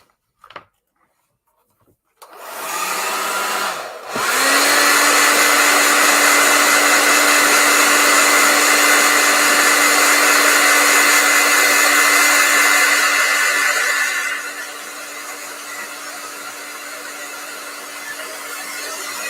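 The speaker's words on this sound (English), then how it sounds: "I'm going to turn my blow dryer on again" A blow dryer, used for finishing farmhouse pumpkins, clicks on and roars loud and continuous for about ten seconds, then drops to a lower steady setting and keeps running to the end.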